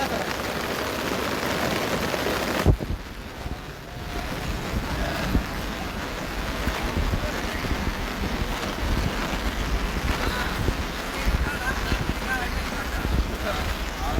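Steady heavy rain pours down on an open ground with gusty wind noise across the whole stretch, a brief sharp thump early on, and no clear voices.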